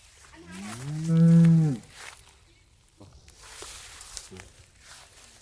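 A cow at a cattle market selling Jersey, Sahiwal and HF cows gives one loud, drawn-out moo close by, followed by quieter rustling and shuffling, with people talking faintly in the background.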